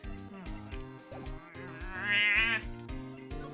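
A cartoonish cat meows in the Ace Attorney video game, one short high-pitched mew rising briefly over steady, rhythmic background game music.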